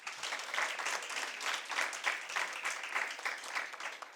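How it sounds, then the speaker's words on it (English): Audience applause at a Caribbean debate competition finale, greeting the announcement of a best speaker: a steady, moderately loud burst of many hands clapping that carries through without any speech. "A round of applause"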